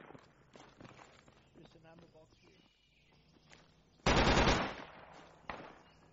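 Gunfire in the video game Project Reality, distant scattered shots and footsteps, then a sudden loud burst of automatic fire followed by a single sharp shot, with players talking throughout.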